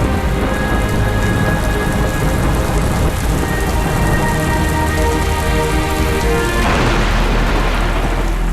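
Heavy monsoon rain falls steadily and loudly in India, a dense, unbroken roar of drops on surfaces with a low rumble beneath, shifting slightly brighter toward the end.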